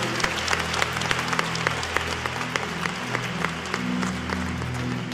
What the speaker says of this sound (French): Nous acclamons le Seigneur. We clap unto the Lord.